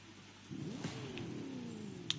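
A car engine revving in the racing game The Crew 2: one quiet, smooth rising rev that climbs in pitch and holds, with no one talking.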